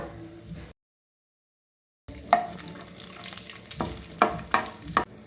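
Whole cumin, cloves, cinnamon, cardamom and dried chilli crackling in hot oil, a soft sizzle broken by a gap of silence, then several sharp pops and spatters close by.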